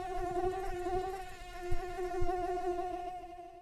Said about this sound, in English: The swarm of mosquitoes at the campsite did their best to make us blood donors.